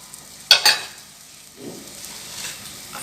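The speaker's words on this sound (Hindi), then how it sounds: "तवा गर्म हो गया, इसके ऊपर मैं डाल दूँगी" Rice roti dough laid onto a hot griddle gives a brief sizzle and scrape near the start, then a soft low rustle and faint sizzling, with no talk.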